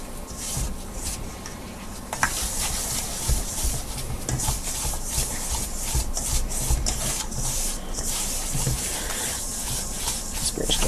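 Dry bath fizzy powder from a kit being mixed with a spoon, a close, steady gritty rubbing and scraping that runs continuously, like stirring dry sand in a bowl.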